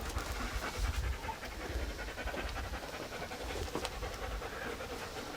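A dog pants rapidly and steadily close to the microphone, a breathy rhythmic huffing that carries on throughout, with no one speaking.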